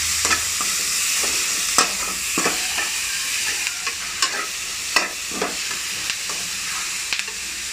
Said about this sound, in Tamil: பூண்டு இதில் போட்டு நல்லா வளைக்கிக்கோங்க.